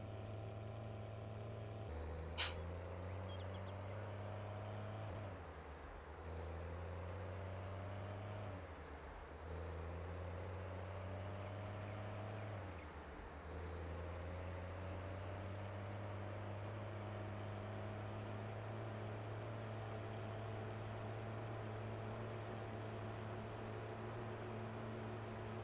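A tractor engine in a farming video game: a low, steady rumble drones on for a long stretch, dipping and revving back up a few times, with no talking.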